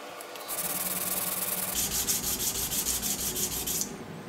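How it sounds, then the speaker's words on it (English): Metal is rubbed back and forth on 180 and 400 grit abrasive strips on a glass plate, taken down to bare metal, a rhythmic scraping hiss of quick even strokes that stops abruptly near the end. "I have my glass plate with the 180 and 400 grit sanding strip in there, and take this down to bare metal."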